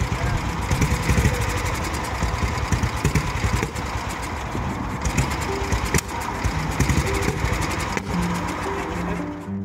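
A student-built motorcycle engine system idles steadily on the motorcycle with a rough, continuous rumble, fairly loud and close, its pulsing note holding through the whole stretch.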